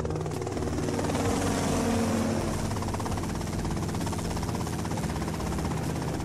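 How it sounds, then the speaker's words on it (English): A helicopter in the video game GTA Vice City, the chopper's rotor drone loud, dense and continuous throughout with no pauses. "that's them in the chopper"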